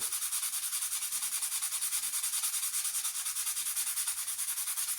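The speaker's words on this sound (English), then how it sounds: "We'll hit it with another fine sandpaper." Fine sandpaper rubbing back and forth over an Australian racing axe handle, steady rhythmic strokes close and fairly quiet, with no talk.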